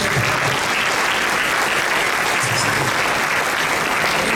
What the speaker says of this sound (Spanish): Denle un aplauso al Padre Celestial.